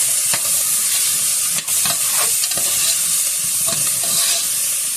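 Onions fry in a pot of green bean soup with a loud, continuous sizzle, joined by scattered scraping stirs and light clinks close up, with no talking.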